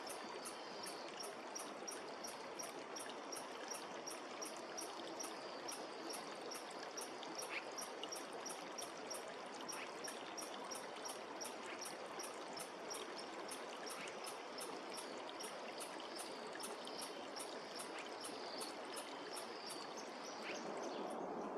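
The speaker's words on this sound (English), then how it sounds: "I traced the path of the small spring that flows out and down to the creek" A small spring trickles and gurgles steadily down toward Whitemud Creek in a wooded valley near Edmonton, a soft continuous flow close by with faint rhythmic insect chirping behind it.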